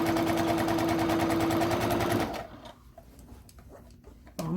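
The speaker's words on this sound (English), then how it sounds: "I'm going to back stitch over this a little bit." A sewing machine back-stitching a seam on a fabric book sleeve or tablet cover runs in a rapid, steady whir for about two seconds, then stops, leaving faint handling noises and a brief clunk.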